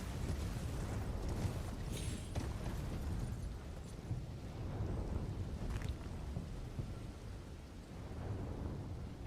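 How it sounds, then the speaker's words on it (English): A giant walking mausoleum in the video game Elden Ring rumbles continuously and low, like distant thunder, under a hissing rain-like wash with occasional heavier booms. "that's like one of the big walking mausoleums, I think"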